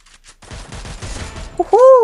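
Rapid gunfire from the mobile battle royale game Free Fire, a fast burst of shots stacking up over a second and a half, followed by a sharp tonal in-game effect sound near the end.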